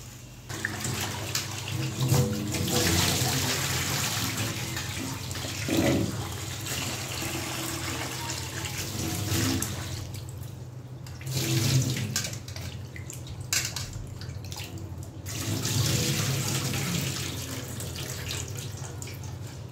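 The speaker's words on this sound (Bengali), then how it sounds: "এখন মাছগুলো ধুয়ে নিচ্ছি।" Tap water pours steadily and loudly into a basin as fish are rinsed, a continuous gushing rush with periodic swells from handling the fish in the stream.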